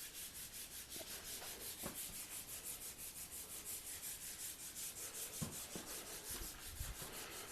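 Wooden guitar neck sanded by hand, steady rhythmic back-and-forth rasping strokes close up, about three per second, with a few faint knocks and no talking.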